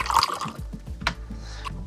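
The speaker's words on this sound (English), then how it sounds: "let's take this shot of the whiskey pouring into the glass" Whiskey pours into a glass in a close, liquid gurgle with small glugging pulses and a splashy start, alone without any voices.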